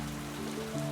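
Steady rain patters in an animated story, a dense, even hiss of falling water with a low sustained tone underneath, continuous and fairly quiet.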